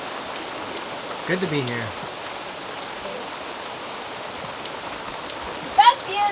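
Rain falling steadily over Bora Bora in French Polynesia, heard from a sailboat as a soft, even hiss across the whole stretch, with a brief spoken phrase near the start.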